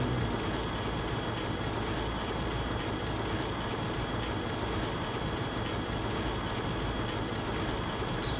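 Steady whirring drone in the Ace of Spades zombies game mode, a constant loud mechanical hum with no breaks or speech on top.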